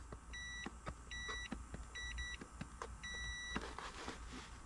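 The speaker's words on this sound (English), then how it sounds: "The multimeter beeps when I hit the horn button." A multimeter gives a series of short electronic beeps as the horn button of a Dodge Dakota is pressed, some single and some in quick pairs, heard close over a faint background hiss.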